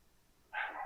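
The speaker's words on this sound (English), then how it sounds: "You can probably hear my dogs barking." A single faint bark from a dog in the distance, brief and muffled.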